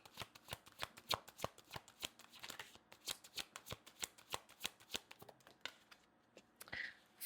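Tarot cards are shuffled by hand up close, a quiet series of crisp riffling snaps and flicks in an uneven rhythm, alone without speech.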